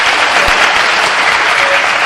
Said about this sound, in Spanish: he oído un aplauso